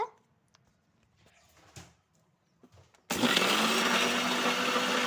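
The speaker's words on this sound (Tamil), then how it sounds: "மறுபடியும் நான் அரைச்சி எடுத்துக்கிறேன்" A mixer grinder whirs loudly, grinding sugar and two cardamom pods for roasted-gram laddu, starting abruptly after a few seconds of quiet handling noises and then holding a steady roar to the end.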